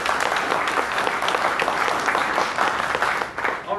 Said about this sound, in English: So first off, I want to give Tyler, our assistant, a round of applause.